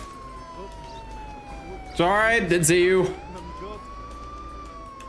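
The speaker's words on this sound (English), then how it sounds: "Oh, that's my siren." A police car siren in the video game Contraband Police wails loud and close for about a second in the middle, sweeping in pitch over a steady engine drone, with someone talking before it.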